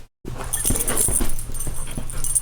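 A dog whimpering close by indoors, a continuous whiny, breathy cry with soft panting, fairly loud and with no one talking.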